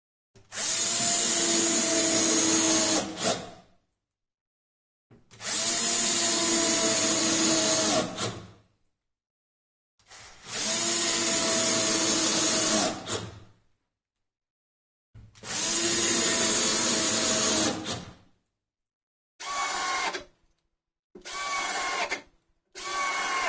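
A power screwdriver drives screws into a wooden snare cajon kit during assembly: four long whirring runs of about three seconds each, then three shorter bursts, loud and close, separated by silences.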